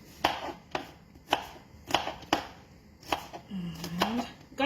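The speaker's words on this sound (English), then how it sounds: "Small pieces of garlic. Cut your garlic." Garlic being chopped into small pieces with a knife on a board: about eight sharp, evenly spaced knife strikes, close and clear, with a brief tonal squeak near the end.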